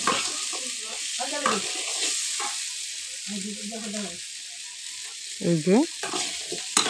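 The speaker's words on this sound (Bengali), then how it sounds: "এবার ভেজে নিচ্ছি লবণ হলুদ দিয়ে।" Small boiled potatoes fry with salt and turmeric, giving a steady, close sizzle throughout while a person talks over it.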